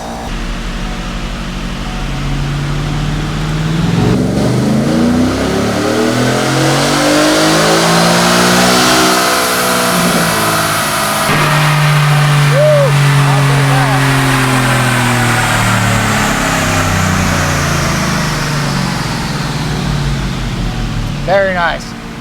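A tuned, naturally aspirated 2024 Ford F-150 with a Whipple cold air intake, running on 93 fuel, roars loudly through a full dyno pull, its engine note rising and sweeping up through the revs before dropping away.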